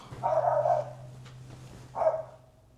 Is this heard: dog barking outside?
yes